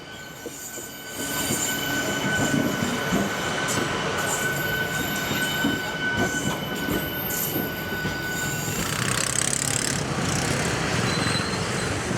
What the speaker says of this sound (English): Oh, I hear a train whistle. It's in the distance coming from the other direction.